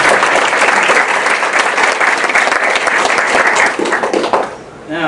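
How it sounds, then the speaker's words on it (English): Audience applause at an evening awards ceremony for a school diversity program, a dense, steady clapping from a large crowd that carries on loudly for several seconds before fading out at the end. "give her a round of applause"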